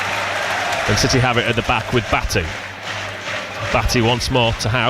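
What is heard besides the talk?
football crowd cheering behind the goal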